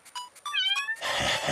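A small kitten mews several times in quick, high, thin cries, close and fairly faint, followed by a burst of rustling noise.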